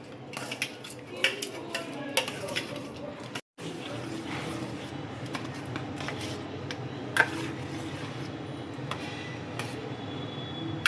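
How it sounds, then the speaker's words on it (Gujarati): A spoon mixes banana and sev into a bowl of raita, making steady light clinks and ticks against the dish, with faint voices in the background. "પછી આ મિક્સ કરી નાખવાનું"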